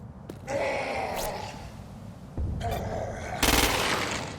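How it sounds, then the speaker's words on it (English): Gunfire from the Xbox game Crackdown 2 as freaks are shot, bursts of rapid shooting with a pause between them, loud and close over a constant game background. "Use precision targeting to shoot the freak's head or legs"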